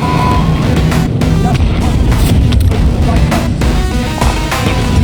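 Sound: grenade explosion in video game Call of Duty Black Ops 6 Warzone

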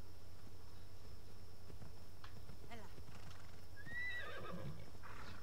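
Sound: horse neighing and hooves in video game Assassin's Creed Odyssey

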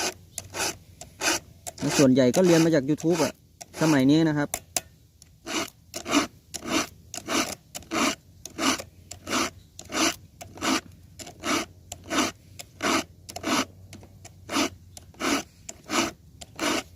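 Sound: filing saw teeth to sharpen a saw

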